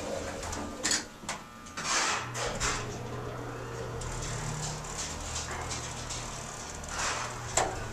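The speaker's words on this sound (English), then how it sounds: "Hear the relay? It's a Watson." Relay clicks from a Watson elevator at 23 Green Street sound as scattered sharp mechanical ticks over a steady low hum and cab rumble, with one louder click near the end.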